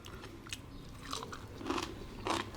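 Close, quiet crunchy chewing of blanched Chinese kale, with a few crisp bites in a short, irregular rhythm and no talking.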